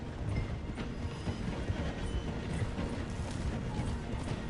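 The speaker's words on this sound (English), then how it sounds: "The train is slowing down to go through the station." A steam train in the Red Dead Redemption 2 video game slows down, producing a continuous rumbling, clattering roll of wheels on track with no talk.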